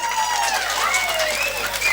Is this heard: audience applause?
yes